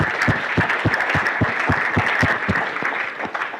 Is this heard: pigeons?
no